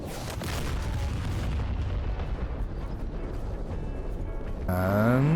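A laser-guided bomb strikes its target in a flight simulator game, a sustained heavy low rumble of blast and debris lasting several seconds, swelling louder near the end as a tonal engine-like whine rises over it, with no talk.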